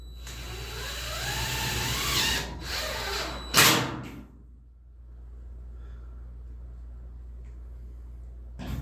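A power drill drives long screws while fitting a 3/8 shop air line kit, with a steady whirring run for a few seconds, a sharp louder burst near the end of the drive, then a quieter motor hum.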